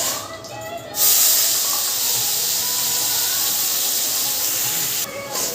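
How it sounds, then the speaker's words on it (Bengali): Sugar, bay leaf and spice paste dropped into hot oil for a dahi chicken recipe, a loud sudden sizzle that settles into a steady hiss, close and without talk. "ওই তেলে আমি চিনি আর তেজপাতা দিয়ে দিচ্ছি দিয়ে এবার যে মশলাটা পেস্ট করে গেছিলাম ওটা দিয়ে দিলাম"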